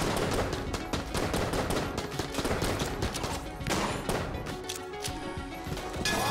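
The Phoenix gun firing in Enter the Gungeon, a long run of rapid, sharp repeated shots in quick bursts with brief pauses, loud and close throughout.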